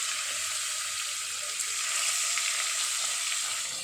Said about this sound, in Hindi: तो चलिए जीरा और सौंफ को पहले अच्छे से तड़का लेते हैं।